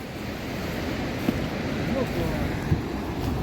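Steady broadband rush of a river flowing past the bank on the Kafni glacier trek, a continuous near wash of water with a couple of faint knocks and no talk.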